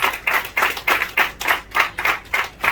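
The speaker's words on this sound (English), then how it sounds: "Could we just give her a round of applause?" Rhythmic clapping at a community gathering for a house rebuilt for a fire victim: about ten evenly spaced, crisp claps in a steady beat, close and distinct rather than a blended crowd roar.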